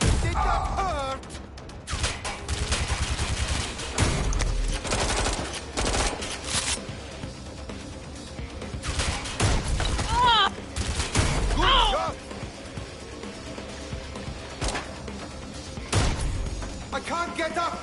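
Heavy automatic gunfire and scattered shots from a Watch Dogs Legion firefight crackle in dense bursts across the whole stretch, with booms and crashes mixed in and voices calling out over the combat.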